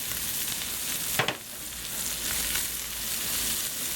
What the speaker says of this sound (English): Now I'm going to throw in a diced jalapeno pepper and a diced onion. Get that going in there. Look at that popping.